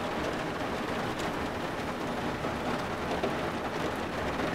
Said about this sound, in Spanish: Igual el sonido de la lluvia